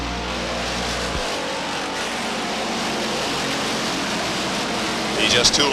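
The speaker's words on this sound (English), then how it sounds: "Cars jockeying for position." Stock cars racing at Beech Ridge Motor Speedway in 1990, a dense continuous roar of engines circling the track, loud and sustained, with a low idling drone cutting out early and a brief burst of squealing near the end.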